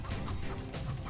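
Brief, quiet clucking from a chicken in the video game Immortal Redneck, a few short fowl calls over a faint background.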